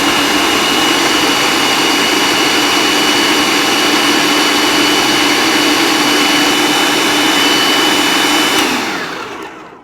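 A food processor blending sweet potato runs with a loud, steady high-pitched whir for several seconds, then winds down and cuts off near the end.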